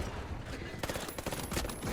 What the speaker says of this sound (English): there's the new pistol here, which is a 3-round burst fire